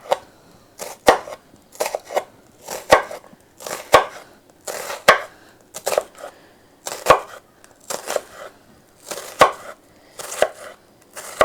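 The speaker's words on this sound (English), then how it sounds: "So next we're going to do some vertical cuts, the same way, spacing them 1/2 inch apart," Knife making vertical cuts through an onion on a cutting board, crisp sharp chops in an irregular rhythm of single and paired strikes, close and clear, with no talking.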